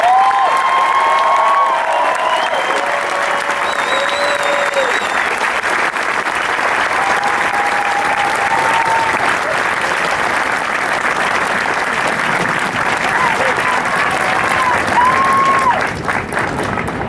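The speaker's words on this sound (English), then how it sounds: "please join us in a warm round of applause for the officers and drill instructors of Company C" A large audience gives sustained applause for the officers and drill instructors of Company C at a military ceremony. The clapping is dense and loud, with faint cheers and whistles mixed in.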